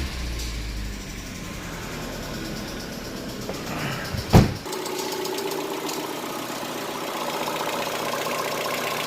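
An older car's engine idles evenly throughout after servicing, a low continuous hum with one sharp knock or clunk midway.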